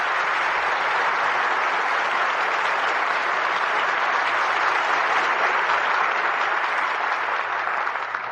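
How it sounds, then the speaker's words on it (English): Sustained, loud studio audience applause rolls steadily at the curtain close of a Lux Radio Theater broadcast, a dense wash of many hands clapping with no voices over it. "Your applause calls our stars back to the footlights"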